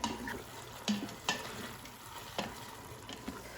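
Sherry reducing in a pot for Instant Pot beef stroganoff, heard as a soft steady simmer and sizzle with a few sharp utensil taps and stirring scrapes, fairly quiet and close, with no talking.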